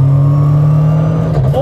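Millington Diamond 2.7 MST restomod car with its engine running while driving, a steady loud low drone holding throughout with a slight rise in pitch near the end.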